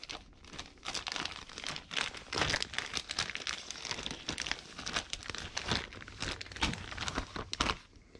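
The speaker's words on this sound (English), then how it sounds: "I'm going to go ahead and put this clay into this bag" White self-hardening clay is pushed into a plastic bag, producing continuous close, quiet crinkling and rustling of plastic in irregular bursts with no talk.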